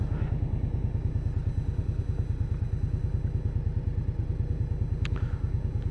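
An Indian Scout Bobber motorcycle engine while riding through the city, a steady, fast, low thumping pulse heard up close and continuous.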